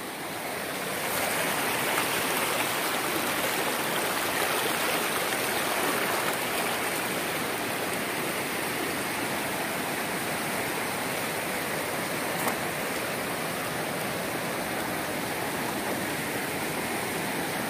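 Water in Riacho Grande, a creek, rushes and splits over rocks in a loud, steady, close roar that holds unchanged from start to finish, with no talk over it.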